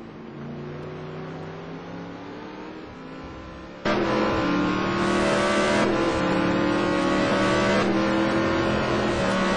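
Race cars at the Nürburgring howl in close succession, one engine note giving way to a sudden louder, high-revving roar that holds steady with shifting pitch.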